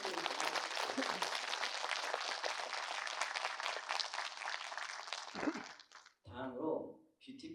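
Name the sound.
audience applause after a lecture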